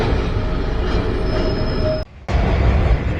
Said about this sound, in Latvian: Mums tādu tramvaju sen nav. Ar koka durviem.